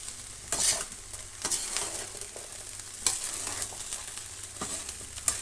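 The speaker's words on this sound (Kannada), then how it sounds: "ಒಂದು ಮೂರು ನಿಮಿಷ ಅಷ್ಟು ಫ್ರೈ ಆಗಲಿ" Shredded cabbage palya frying in a pan, a low steady sizzle broken by several scraping stirs of a spoon against the metal, close and fairly quiet.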